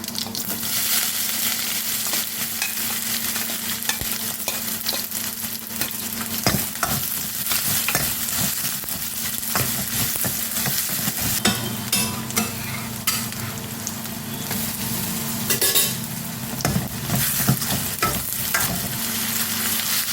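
Onions and green chillies frying in oil with spices, a loud continuous sizzle under repeated stirring and scraping strokes, close up and without speech.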